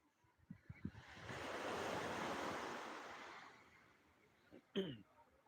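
Sea waves at Old Digha beach on a spring night: one soft wave wash swells up, holds and fades away, heard faint and distant, with a few brief scattered voices and knocks around it.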